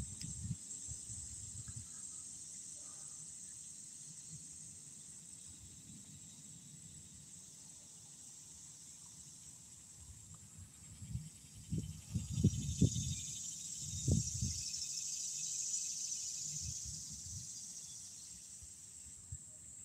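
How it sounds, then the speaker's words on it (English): Cicadas and katydids drone steadily in hot, humid outdoor weather, a constant high buzzing chorus with faint rustling and a few low thumps partway through. "Can y'all hear them cicadas and katydids?"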